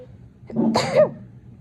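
A single short sneeze, close and sharp, with a brief breathy lead-in and a quiet background.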